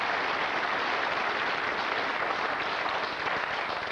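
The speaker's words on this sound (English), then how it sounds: "Let's give them a really big round of applause." A studio audience applauds in a steady, even wash of clapping at a 1991 TV game show, sustained and fairly distant without pause.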